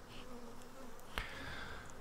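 Honey bees humming in an open Langstroth hive box during a frame-by-frame inspection, a soft steady drone broken by one sharp knock or click near the middle.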